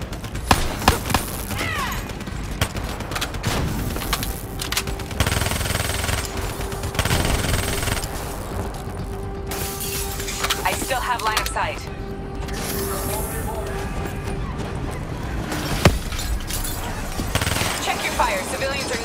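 Gunfire from the Call of Duty: Black Ops 3 campaign rattles in loud, dense bursts and scattered single shots over a constant rumble of battle, with voices speaking through the action.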